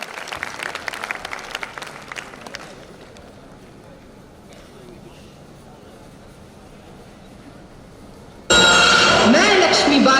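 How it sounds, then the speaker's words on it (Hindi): A crowd at an Independence Day celebration claps loudly for a few seconds, then the clapping fades into a quieter room murmur before a loud burst of sound cuts in. "तालियां तालियां तालियां बजती रहनी चाहिए।"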